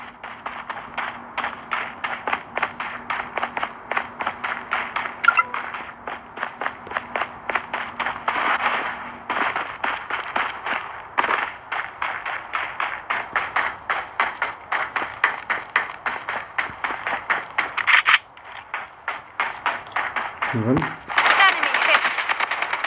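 Rapid gunfire in the battle royale game Blood Strike, many sharp repeated shots in quick rhythmic bursts through most of the stretch, with a short louder burst near the end.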